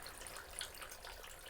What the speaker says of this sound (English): Oh, and the sound of that water is awesome.